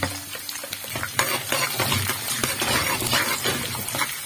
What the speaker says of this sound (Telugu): తాలింపుకి సరిపడా నూనె వేసుకుని నూనె మరిగిన తర్వాత అల్లం ముక్కలు ఆవాలు మినపప్పు చిన్నపప్పు జీలకర్ర మిరపకాయ ముక్కలు తాలింపు